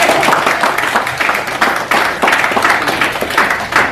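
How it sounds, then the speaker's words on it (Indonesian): Sustained, dense applause from an audience at an Indonesian diaspora gathering with the Deputy Speaker of the MPR, steady loud clapping filling the whole stretch without pauses. "Tepuk tangan yang meriah untuk kita semua"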